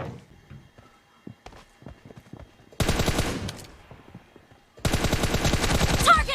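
Automatic gunfire in the mobile battle royale shooter PUBG Mobile: two loud, rapid bursts of shots, each a couple of seconds long, after scattered quieter footsteps and clicks.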